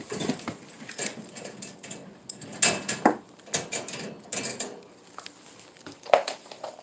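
Dogs whimper in short, uneven whines mixed with clatter and pattering around a room, close and moderately loud, with no talk.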